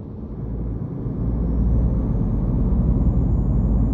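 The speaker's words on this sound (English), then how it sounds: "Hear how quiet the engine is." A DAF XF truck engine in Euro Truck Simulator 2 runs quietly as a steady low rumble, rising slightly in level after the first second and holding a constant drone with no talking.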